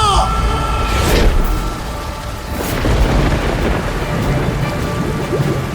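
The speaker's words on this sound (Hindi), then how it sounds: "अचानक जोर की बिजली कड़की" Loud rumbling thunder with crackling booms over heavy rain, a dense continuous storm roar with a few sharper cracks.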